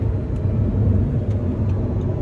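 A 2009 Audi R8 R Tronic with its V8 engine driving fast, heard as a steady, loud low engine rumble and road drone from inside the car, continuous with no speech.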